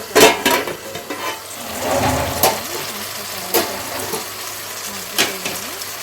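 Tomato gravy for a boiled egg curry cooks in a covered pan, giving a steady, fairly loud frying sizzle with a few brief clinks and stirring scrapes scattered through it, and no speech.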